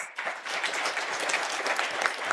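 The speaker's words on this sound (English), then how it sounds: "I think they deserve a round of applause." Audience applause at a university gathering, a dense steady wash of many hands clapping alone for a couple of seconds, fairly loud and sustained without a break.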